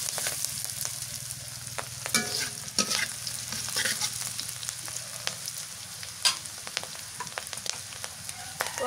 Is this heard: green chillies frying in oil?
yes